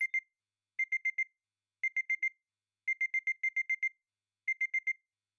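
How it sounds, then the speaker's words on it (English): An alarm clock rings in short bursts of rapid electronic beeps, three to seven per burst, separated by brief pauses, loud and close with nothing else heard. "I hit the alarm."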